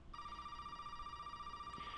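Phone ringing, a steady bright electronic tone with harmonic overtones holding continuously after a brief start, fairly faint and heard alone.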